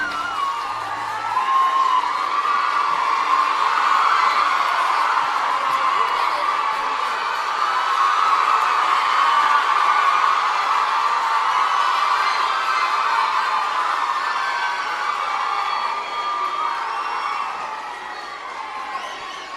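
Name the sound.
round of applause for the Governor of Tamil Nadu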